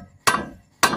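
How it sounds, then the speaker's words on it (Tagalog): Two sharp hammer blows strike a stud bolt being installed on a HOWO dump truck, spaced about half a second apart, loud and close with a short metallic ring after each hit. "kailangan dandan ka muna mag pukpok para hindi gagalaw yung stud bolt natin."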